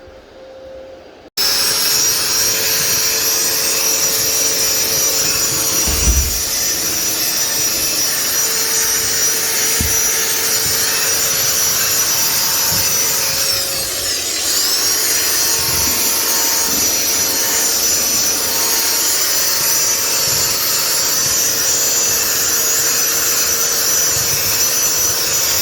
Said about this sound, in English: you can see we got these floors nice screened